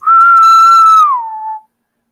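A person whistles to imitate the mating call of a male Brood X cicada, one loud, clear, sustained tone held about a second before it slides down and stops abruptly, heard alone.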